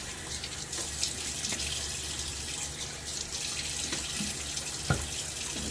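Tap water runs steadily from a faucet into a sink as a face is wetted before a shave with a badger brush, a continuous close hiss with a few faint splashes and no talking.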